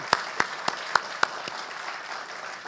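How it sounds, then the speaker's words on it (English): Applause during a fireside chat event with the U.S. Archivist and Education Secretary: a handful of distinct, evenly spaced claps stand out over a softer bed of clapping that tapers off, moderately quiet and without voices. "Let's give Jalen another round of applause."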